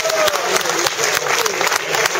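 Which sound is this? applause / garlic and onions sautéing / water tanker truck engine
applause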